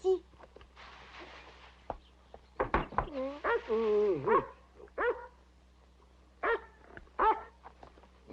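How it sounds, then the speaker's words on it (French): A dog barks and yelps in short excited bursts, some whining, in a 1980 French television series, with a low steady hum underneath; no speech over it. "Ah oui, des aboiements de chien."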